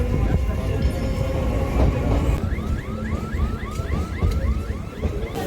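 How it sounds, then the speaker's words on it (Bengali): A train pulling out of platform 20 on a suburban line toward Diamond Harbour, with loud continuous rumble, rhythmic wheel squeals and clatter over the rails, close and steady throughout. "আমাদের ট্রেন একদম সঠিক টাইমে 20 নম্বর প্ল্যাটফর্ম থেকে ছেড়ে দিল।"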